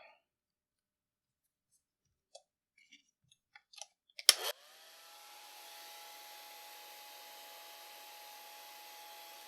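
A hair dryer blows steadily over a watercolor painting of a colt, starting abruptly after a few small taps and clicks and then running as a constant whooshing hum.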